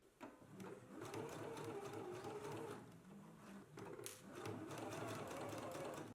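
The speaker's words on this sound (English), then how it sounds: "So let's go ahead and baste it in place now." A domestic sewing machine runs steadily for several seconds, basting garment fabric pieces together for a McCall's 8313 pattern, with a brief slowdown midway before resuming its fast, even stitching hum.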